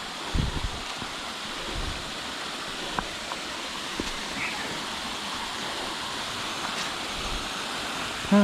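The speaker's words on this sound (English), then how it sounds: "And there's the waterfall." A waterfall beside a mountain bike trail gives a steady broadband rush of falling water, with a few thumps and rustles near the start and toward the end, and no clear talk.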